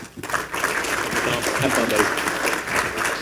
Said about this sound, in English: welcome, Tom, with a big round of applause, please